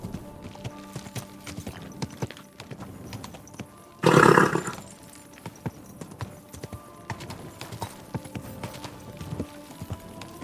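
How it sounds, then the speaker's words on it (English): Horse hooves clop in a steady rhythm in the video game Kingdom Come: Deliverance 2, interrupted by a brief loud burst partway through; no one speaks. "Easy, good horse."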